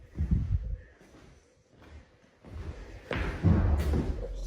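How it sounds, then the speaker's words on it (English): Heavy thumps and thuds inside an otherwise empty house, several low dull knocks spread across a few seconds, fairly close and loud, with no voices. "Did you hear that thump?"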